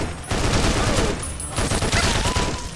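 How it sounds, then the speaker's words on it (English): Sustained 10mm SMG fire in a modded Fallout: New Vegas, dense rapid gunshots rattling continuously at close range with brief dips in intensity, no talking. "a weapon mod I've been using throughout the video, and that's 10mm SMG and Friends"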